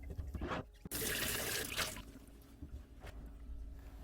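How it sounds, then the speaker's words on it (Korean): Water splashes and runs over a small round glass terrarium container being rinsed clean, with a brief pause, then a loud rush that fades into softer trickles and drips. "작은 사이즈도 깨끗이 씻어 보겠습니다."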